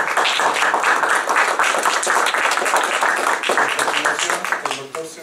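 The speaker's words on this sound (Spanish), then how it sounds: "Damos un aplauso" Audience applause at an academic panel on image analysis, dense steady clapping from a crowd filling the whole stretch and tapering slightly at the end.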